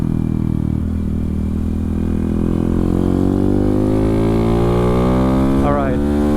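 Honda Grom motorcycle, a 2022–2025 model with changed gearing, on a top speed run, heard from the rider's position. The engine drones loud and continuous as its pitch climbs steadily through the gear, with wind rush underneath.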